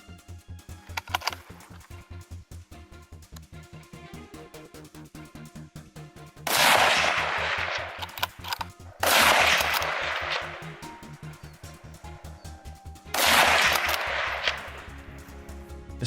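Several loud gunshots go off at wild boar out in the open: three heavy blasts spaced a few seconds apart, each with a long, roaring echo, over a steady rhythmic background beat.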